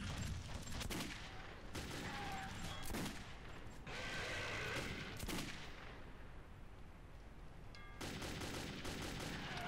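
Rapid bursts of gunfire crackle through a Metro 2033 fight, repeated loud volleys with short gaps between them over a constant noisy background.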